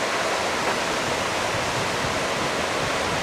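River water below a dam roars steadily as it pours over surfing holes and standing waves. The dense, even rush is close and loud throughout, with no voices.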